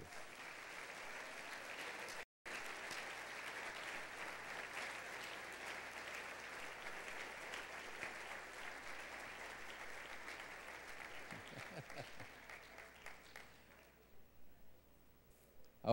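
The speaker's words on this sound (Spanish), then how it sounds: "Aplausos." Church congregation applauding newly baptized members at a service, sustained crowd clapping that fills the room, briefly cut out early, then thinning and tapering into scattered claps near the end.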